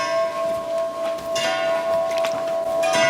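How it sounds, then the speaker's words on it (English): A chime rings inside a lake house, sustained bell-like tones that hang and blend with a few louder struck notes, fairly loud and close, with no voices. "And I like the chime."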